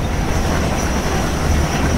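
A train on an Indian Central Railway route in the PC game Train Simulator Classic, producing a loud, continuous low rumble of rolling wheels and carriages with a faint high tone above it.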